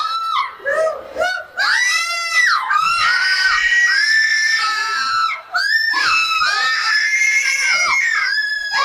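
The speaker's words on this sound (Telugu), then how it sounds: "ఎందుకండి కేకలు?" People on a fairground ride that climbs and then drops scream loudly and almost continuously, with several high, wavering voices overlapping in repeated rising and falling wails.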